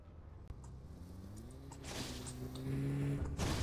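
A car drives away, its faint low engine hum rising in pitch and growing louder as it accelerates, with a few soft knocks at the start.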